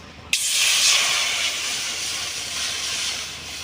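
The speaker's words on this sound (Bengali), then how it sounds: "ডাল সিদ্ধের জন্য কড়াতে জল দিয়ে দেব" Water poured into a hot wok for boiling mung lentils bursts into a loud, steady steam hiss after a sudden start, sustained close up with no voices.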